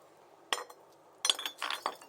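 Old glass sauce bottles, one an HP brown sauce bottle about 50 years old, dug from the ground and handled. A sharp clink, then a cluster of light knocks and rattles close by, with no talking.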